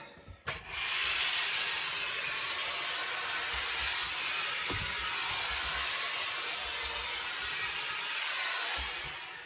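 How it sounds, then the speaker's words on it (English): A loud, steady hiss of steam from a steamer, directed onto an Akubra fedora hat, starts abruptly after a brief thump and continues evenly for several seconds before tapering slightly. "Let's introduce some steam."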